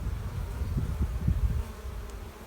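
Honey bees buzz steadily in an open beehive with frames of solid honey, a dense low drone that swells and pulses close by with no talking.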